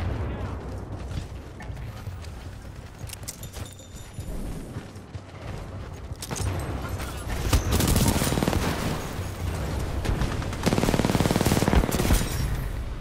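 SMG fire in the multiplayer shooter Titanfall 2, rapid bursts of automatic gunfire mixed with explosions and mechanical game sounds, growing louder and denser toward the end under occasional player chatter.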